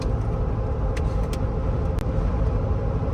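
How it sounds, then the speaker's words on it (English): Steady, loud tire roar and road rumble from Kumho Road Venture MT71 mud-terrain tires inside a moving vehicle, a continuous low hum with no pauses. "You're definitely going to know, hey, a little bit of road noise with them"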